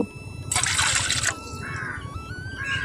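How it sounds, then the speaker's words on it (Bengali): Warm water being poured into a container, a brief bright rushing splash followed by a rising trickle as the vessel fills, close and fairly loud. "প্রথমেই এখানে একেবারে উষ্ণ উষ্ণ গরম জল এখানে তিন কাপ নিয়ে নেব"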